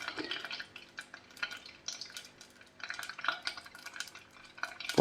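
Butter melting over low heat in a pot while ghee is made gives a soft, crackly bubbling and faint spattering that comes and goes in small bursts, close but quiet, with no talking.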